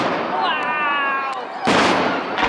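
Fireworks bursting at a Bonfire Night display at Skinningrove on 5 November, with a whistling rocket rising before a loud, close crackling explosion and another burst at the end.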